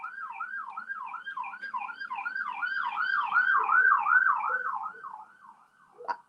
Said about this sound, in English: I wonder if you could hear that. That was the ambulance.